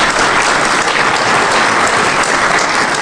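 Conference audience applauding after a live hacking demo at Defcon, dense sustained clapping filling the room, loud and even throughout with no speech.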